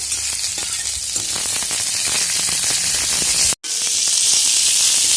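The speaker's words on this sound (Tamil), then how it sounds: "இப்போ இந்த சுண்டைக்காயை சேர்த்து ஒரு வதக்கணும்." Pirandai (adamant creeper) and turkey berries sauté in a pan for a Tamil thuvaiyal chutney, giving a steady, loud, even sizzle that drops out for an instant near the end before resuming, with no voices.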